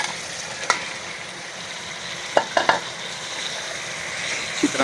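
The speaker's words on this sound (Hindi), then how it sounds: "मसाला हमारा बेहतरीन तैयार हो गया है माशाअल्लाह। अब हम इसमें चिकन ऐड कर देते हैं जी।" Chicken frying in masala for a Sindhi chicken curry, a loud, dense sizzle that holds steady throughout, broken by a few sharp spoon knocks against the pan.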